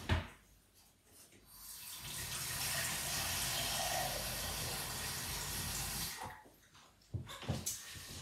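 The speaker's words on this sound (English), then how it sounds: "Fill that with water." Water pours steadily into a container holding a floral foam block for an Easter flower arrangement. The stream is broad and splashy, rising and then stopping after about six seconds, with handling clatter after.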